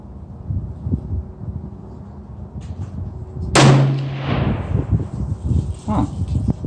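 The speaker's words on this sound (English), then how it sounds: "third shot with the muzzle brake on" One loud, sharp rifle report from a TC Compass in 6.5 Creedmoor fitted with a muzzle brake, a sudden blast with a lingering echo, surrounded by outdoor noise and voices talking before and after.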